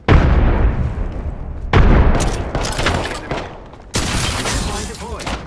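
Frag grenade blasts in an Apex Legends firefight, loud booming explosions erupting at roughly 0, 1.7 and 4 seconds with crackling gunfire and debris between them, close and dominant.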